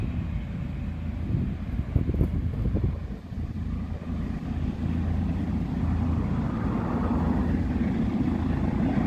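A firefighting helicopter spools up for takeoff near a wildfire in the Rincon Mountains outside Tucson, Arizona, giving a loud, steady, wind-buffeted roar that thickens and builds with faint rotor pulses.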